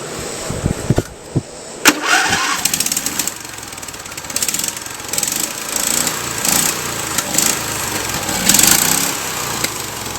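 A Yamaha motorcycle fitted with a swapped 670cc V-twin engine runs close by, loud and rough with uneven revving bursts and rattling, no talking over it.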